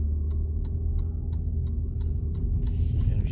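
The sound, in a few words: Saab 9-5 3.0t turn signal blinker ticking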